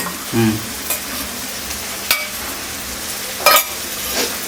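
Ground spice paste sautéing in a pan for desi chicken kosha, a steady sizzle broken by several loud spatula scrapes and clinks against the pan, close and busy throughout.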